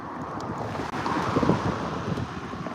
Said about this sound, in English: I don't know if you can tell, but it's very windy.